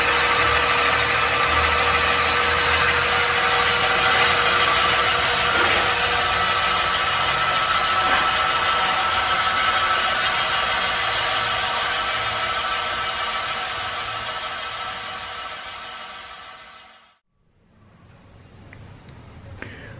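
A steam-powered machine shop tool makes a cut. A loud, steady mechanical drone runs unbroken for about seventeen seconds, then cuts off abruptly and leaves a quieter background hum. No one speaks.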